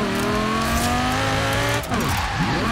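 A car racing fast in Forza Horizon 4, its engine roaring loud and close with rising harmonic pitch as it accelerates, then a brief dip and a sweeping pass-by shift in tone, with a hint of tire squeal.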